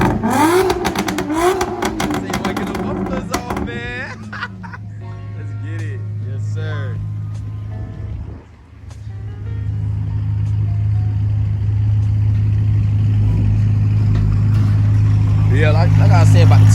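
A straight-piped BMW E9X M3 with its mufflers removed, revving loudly and close by in rising and falling bursts, then settling into a deep, sustained drone; people talk over the engine early on.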